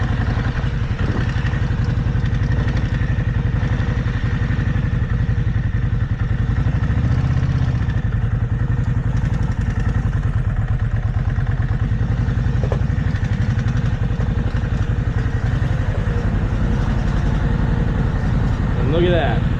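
A 2005 Kawasaki Vulcan 750 motorcycle out on a test ride, its engine droning loud and steady throughout with a continuous low rumble and some clattering, recorded close on the bike.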